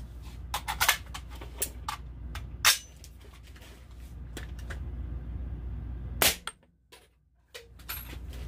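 A .338 Blackout Razorback rifle is test fired, giving a series of sharp, short cracks and clicks spread through the moment. One stronger report comes late, followed by a brief near-silence and more small clicks.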